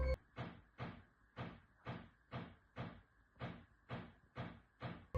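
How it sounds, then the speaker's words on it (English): Persistent knocking in a house, eleven evenly spaced, muffled thumps at a steady, slow rhythm, each with a short hollow ring, heard alone without speech. "she heard the sound of knocking"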